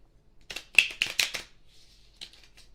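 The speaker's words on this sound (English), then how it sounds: "Right, shuffling both halves together" A tarot card deck being riffled, both halves shuffled together in a quick burst of crisp flutters, then a short pause and a few final snaps of cards, close and fairly loud.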